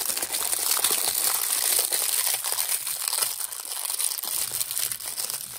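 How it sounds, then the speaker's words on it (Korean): A plastic bag holding raffia yarn for crocheting a tote bag crinkles steadily close up, a dense continuous crackle of handled plastic lasting several seconds, with no speech. "라피아 실 같은 경우는 이렇게 비닐에 들어있어요."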